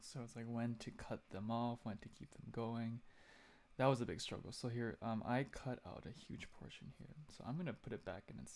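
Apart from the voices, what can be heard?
No everyday noises stand out.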